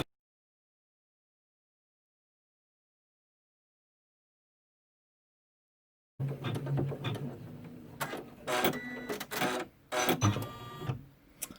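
An embroidery machine stitching, starting abruptly after silence with a steady, rapid mechanical chatter and a few louder bursts, close and continuous.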